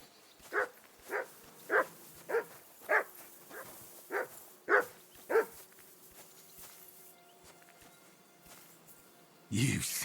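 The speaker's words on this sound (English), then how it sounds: "You silly mutt." A dog in the video game Kingdom Come: Deliverance II barks nine times in an even, moderately loud series, then goes quiet before a brief louder sound at the end.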